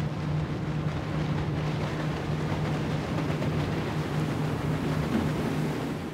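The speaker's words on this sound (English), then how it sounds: "when we ran this boat at 35 miles an hour" A Cypress Cay Cayman LE 250 pontoon boat's motor hums steadily as the hull runs across water at about 35 miles an hour, with wind rushing over the microphone throughout.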